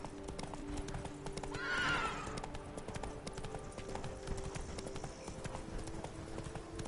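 Horse hooves clip-clop steadily in The Witcher 3, Blood and Wine, with one clear neigh near the start over continuous in-game ambience.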